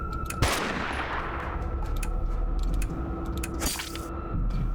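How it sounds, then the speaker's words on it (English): Automatic rifle gunfire in the video game Dustland Delivery, a dense, continuous rattle of shots with a sharp burst near the start and another toward the end, loud and steady with no talk. "You've got the automatic rifle."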